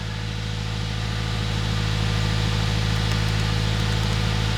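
A 2018 Subaru WRX idles steadily with a low, constant drone and a faint whine, running evenly without any revving, close and alone.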